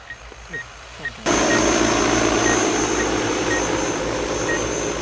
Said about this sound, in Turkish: Yörükler Mahallesi'nde bazı tarlalara deneme amacıyla drone ile havadan ot ilacı atıldı.